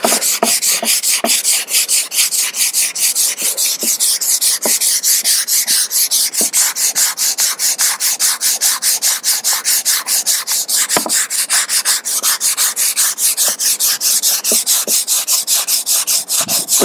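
A surfboard is sanded by hand with sandpaper wrapped on a block, producing fast, regular back-and-forth rasping strokes that sound close and steady, with no talking.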